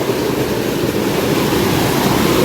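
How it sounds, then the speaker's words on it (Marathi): Small waterfalls along a stream at night make a steady, dense rushing roar, close and fairly loud, with no other sounds standing out. "असं धबधबे छोटे छोटे आहेत जरा सांभाळून जावं लागतं"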